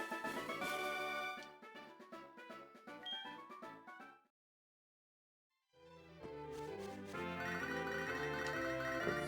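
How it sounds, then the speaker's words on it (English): A phone ring from the Pokemon HeartGold video game: a bright, repeating electronic chime pattern, loud and close, breaking off into a brief silence before a fuller musical jingle picks up. "Phone call from our mother."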